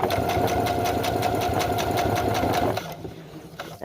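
A sewing machine runs steadily, stitching a zippered clutch purse made from a mask panel in a fast, even rhythm, close and loud, then slows and stops near the end.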